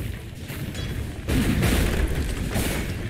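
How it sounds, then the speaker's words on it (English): Dire's bottom tower collapsing in Dota 2, a heavy rumbling crash that swells after a second into dense, crackling debris noise, loud and close. "Dire's bottom tower has fallen."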